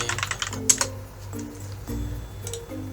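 Keys on a computer keyboard clatter in a rapid burst, then a few separate presses follow, close and clear, while someone speaks quietly alongside.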